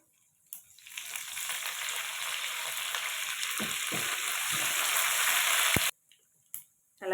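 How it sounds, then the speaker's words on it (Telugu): Dried red chilies, garlic and curry leaves sizzle steadily in hot oil, a dense frying hiss that builds after a moment and holds loud for about five seconds, with a few stirring clicks, before cutting out and briefly returning. "తర్వాత ఎండుమిర్చి కూడా వేస్తున్నానండి తెల్లగడ్డ కూడా వేస్తున్నానండి"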